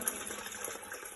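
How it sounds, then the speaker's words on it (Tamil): Water pours steadily from the mouth of a stone Nandi statue at a Tamil temple, a soft continuous splashing flow heard close and alone. "நந்தியோட வாயிலிருந்து தண்ணி வருது"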